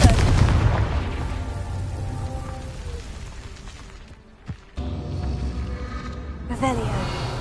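Confringo fire-spell blasts in the Hogwarts Legacy video game, with a heavy booming burst at the start, a sharp pop midway and another burst near the end, all over a rumbling game soundscape.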